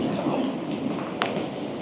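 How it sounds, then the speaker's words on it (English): Hail and rain falling in a hailstorm, a dense, loud, steady hiss and patter that runs the whole time with a sharper crack partway through. "We'll probably relocate inside because it's a fucking hailstorm."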